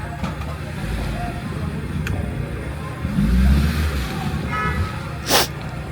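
A car stuck in snow with its wheels spinning, a low revving engine and churning drone that swells briefly midway, heard under background ambience with a sharp noise near the end.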